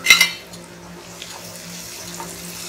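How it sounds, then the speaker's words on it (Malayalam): Tomatoes tumble into a pan of lightly browned onions while cooking palak paneer. A short metallic clatter and splash comes first, then a quiet, steady sizzle runs underneath. "ഇനി നമുക്ക് ഇതിലേക്ക് തക്കാളി ചേർക്കാം"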